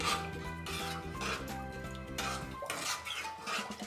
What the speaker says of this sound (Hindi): और अब इसको मिक्स कर देते हैं।